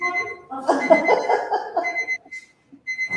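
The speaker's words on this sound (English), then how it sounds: "It sounds like my timer on my stove." A stove timer gives repeated high electronic beeps at a moderate distance in a home, with chuckling and soft voices over the middle.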